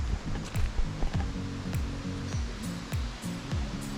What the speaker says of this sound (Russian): Горная река.